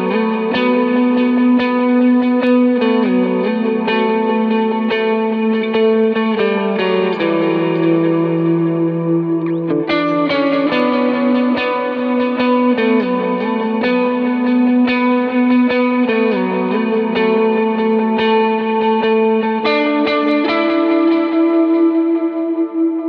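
An electric guitar lead for a worship song rings out loud and continuous through delay, chorus and distortion, sustained notes shifting in a dense, echoing wash.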